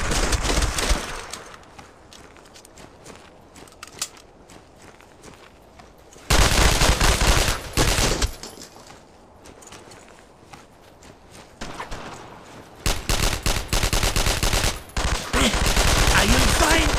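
Bursts of rifle and machine-gun fire from the World War II shooter Brothers in Arms: Road to Hill 30 crack out in loud sustained volleys, separated by quieter stretches with footsteps and faint voices.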